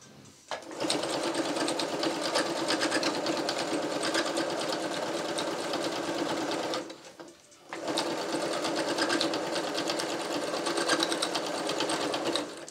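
A sewing machine stitching a neoprene clown bodysuit, a fast steady mechanical whir running for several seconds, stopping briefly, then resuming, close and clear with no talking.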